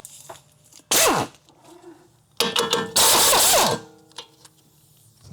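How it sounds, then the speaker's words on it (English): A ratchet works loose the 17 mm sway bar link bolt on a 2007–2011 Honda CR-V front suspension, giving a few short, harsh bursts of clicking mechanical noise with quiet gaps between them. "Then we'll be removing the sway bar link, which is, it looks like a 17 bolt."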